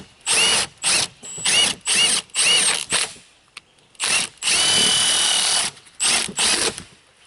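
A Milwaukee stubby 3/8-inch impact wrench drives a 19mm socket on a scissor jack in a string of short, loud, rattling bursts, then one longer run and two final quick bursts.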